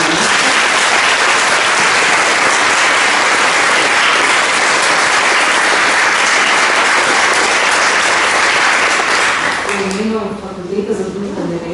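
An audience applauds the panelists at the close of a Slovenian panel on the Universal Declaration of Human Rights, with loud, dense, sustained clapping that fades out near the end as a voice begins speaking.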